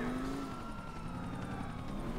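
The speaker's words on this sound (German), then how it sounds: "Na geil, der Helikopter ist dann auch hinter uns her." A police helicopter chases the player in Grand Theft Auto IV, its rotor drone a steady, dense hum that holds level throughout with a faint tonal whine over it.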